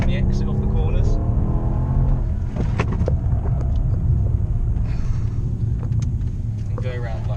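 A car drives around the corners of a test track, its engine droning close by, rising and falling in pitch as it revs through the bends, with a steady road rumble underneath.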